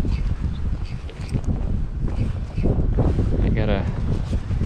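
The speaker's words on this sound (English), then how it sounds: "The wind's blowing so hard right now." Strong wind blows across a bass-fishing spot on a windy morning, a loud continuous rumble buffeting the microphone throughout, with someone talking over it.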